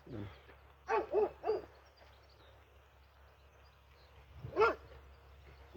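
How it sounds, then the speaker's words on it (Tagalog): Two guard dogs behind a fence barking in the distance, a quick burst of three barks followed later by a single bark over quiet outdoor ambience. "may dalawang asong gwardiya dyan"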